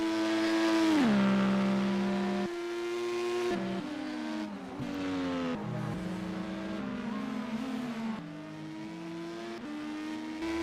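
IndyCar and GT race cars in a sim racing game at Watkins Glen International roll down pit lane, engines droning at a steady speed-limited pitch that dips and shifts as cars pass close by, loud and continuous.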